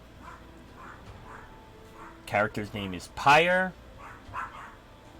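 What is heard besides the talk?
dogs barking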